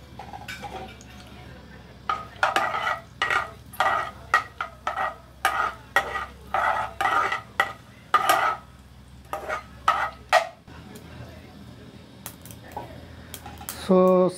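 Mustard seeds and cumin crackle in hot cooking oil as a series of short, uneven bursts of popping and spattering, close and moderately loud, with a brief voice at the end.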